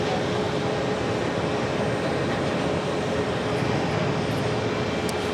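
Alitalia Airbus A330-200 airliner heading out for departure at JFK, a steady broadband jet roar holding at constant loudness throughout, with no talk.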